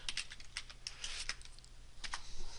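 Rapid keystrokes on a computer keyboard as an email is typed, an uneven run of close, crisp clicks with brief pauses, no voice present.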